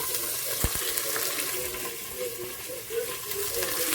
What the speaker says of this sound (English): that's the sizzle that you always want to hear